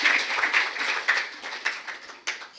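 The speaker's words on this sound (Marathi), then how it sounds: "या उभयतांसाठी टाळ्या वाजवून देवाचा उपकार मानूया" Audience applause during a church testimony service: a steady wash of many hands clapping together, with several louder swells, fairly close and not overlaid by any talking.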